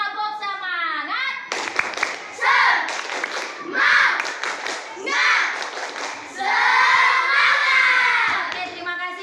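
Schoolchildren in a classroom perform a rhythmic group clap, bursts of claps in time with loud chanted voices, repeated in several phrases with short pauses between.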